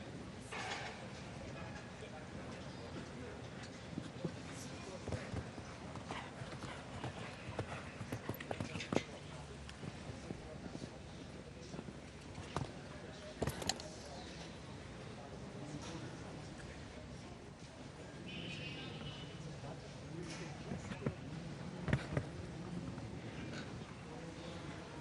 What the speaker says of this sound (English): Horse jumping just beautifully.